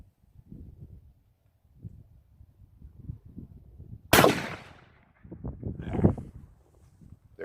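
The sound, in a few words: single shot shotgun firing a 1 ounce slug at a jug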